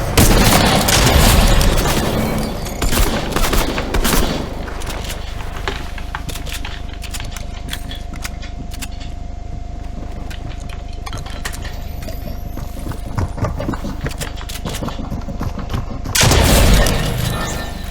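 Sniper rifle fire in Fortnite Chapter 3 Season 3, loud sharp booms at the start and again near the end, with scattered game clicks and impacts over a steady low background hum between them.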